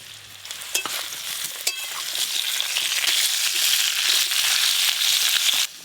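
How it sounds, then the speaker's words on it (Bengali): Potatoes and eggplant frying in a pan, starting with a couple of sharp scrapes before the sizzle swells into a loud, steady hiss that cuts off abruptly at the end, close and with no talk. "আলু বেগুন ভালো করে ভাজা হয়ে গেছে"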